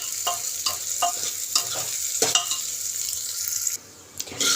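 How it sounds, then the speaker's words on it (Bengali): Mung dal fries in a pan with a steady close sizzle, while a utensil stirs and scrapes through the lentils in regular strokes, with no talking. "এবার মুগ ডালটা ভেজে নেব, এর মধ্যে ভেজে নেব একটু 2 মিনিট মতো ধরুন ভেজে নেব লাল করে।"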